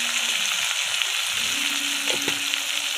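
Chopped onion and garlic frying in a pan for a Bengali bottle gourd and prawn dish, giving a steady, dense sizzle with no one speaking. A faint hum runs underneath, and a few soft stirring scrapes come through near the end.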